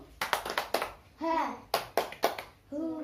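Third-grade children in a classroom perform a rhythmic spirit clap, bursts of sharp claps in quick patterned groups punctuated by short chanted shouts.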